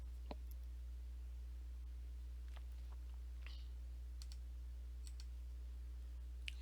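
A computer mouse gives a few sparse, faint clicks at irregular intervals against a quiet, humming room.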